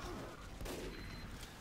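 Gunfire rattles in Team Fortress 2 during a busy match, a dense burst of shots with a sharper crack partway through, at low level amid game noise.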